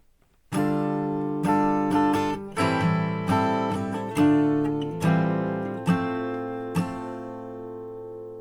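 Strummed guitar chords ring out one after another, each struck chord sustaining and fading before the next, in a steady, unhurried progression with no voices.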